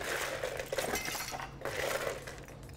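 Ice cubes dropped and rattled into a martini glass, a continuous clinking and clattering of ice against glass at close range, fairly quiet, with no talking.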